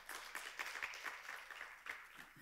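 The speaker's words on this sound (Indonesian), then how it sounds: "Kita beri tepuk tangan pada Tuhan." A church congregation in Jakarta claps and applauds during a Sabbath service, steady scattered handclaps at moderate volume filling the room.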